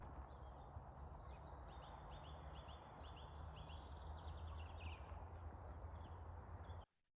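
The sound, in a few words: birds chirping on sunny mountain hiking trail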